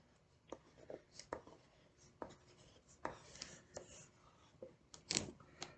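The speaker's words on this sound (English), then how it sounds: "you can use your white crayon and you can draw some texture or a design or a pattern in your background" White crayon drawing texture and a pattern across a paper background, a series of soft scratchy strokes with short bursts, fairly quiet and close, with no talking.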